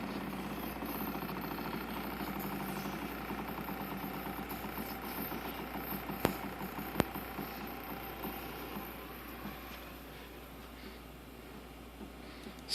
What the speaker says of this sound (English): You can hear the throbbing of that motor.